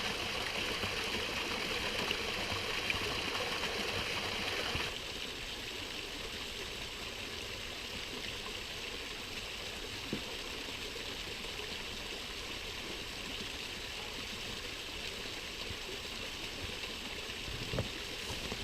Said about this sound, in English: It's not a waterfall you can swim in, but it'd be good in the winter when it's in flood.